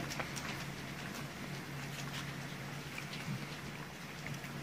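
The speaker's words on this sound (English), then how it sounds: "that's a heavy rain" Heavy rain falling steadily outdoors, a continuous dense patter with scattered louder drops, even in level throughout and with no voices.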